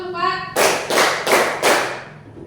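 A class of children plays a counting clap game, giving four loud, evenly spaced bursts of clapping in a row after a teacher's spoken cue, then a fading tail.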